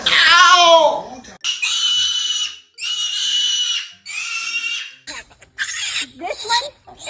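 Pig squealing loudly and close, a high rising squeal followed by several long shrill bursts and shorter broken squeals, with people's voices mixed in.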